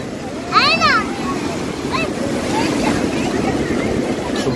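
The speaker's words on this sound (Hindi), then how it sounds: "समंदर शोर मचा रहा है" Sea surf rolls and roars steadily along a shore in a broad, continuous wash, with a brief high whistling call near the start and faint distant voices.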